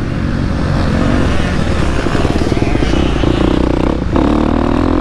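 A 2023 KTM 250 SX-F dirt bike engine revs loud and close while riding over rollers, rising and falling under throttle with clattering chassis noise and a brief dip near the end.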